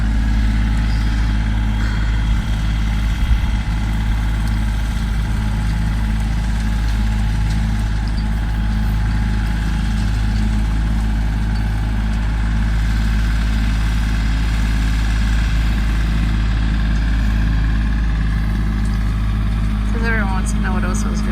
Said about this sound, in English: It's out there doing the tractor thing.